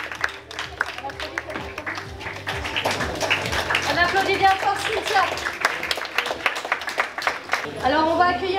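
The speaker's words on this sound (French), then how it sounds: "On applaudit bien fort Cynthia." A crowd at a Miss Mermaid France beauty pageant claps and applauds steadily, the clapping swelling in the middle, while a voice speaks over it near the end.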